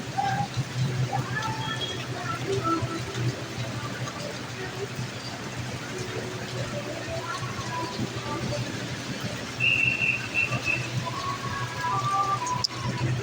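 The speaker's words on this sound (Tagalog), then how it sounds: "Lakas ng ulan, oh." Steady heavy rain hisses continuously on a street, with people talking intermittently over the downpour.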